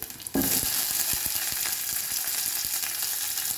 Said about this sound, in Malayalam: ഇനി പച്ചമുളക് ഇട്ട് കൊടുക്കാം ഇനി ചെറിയ ഉള്ളി ഇട്ട് കൊടുക്കാം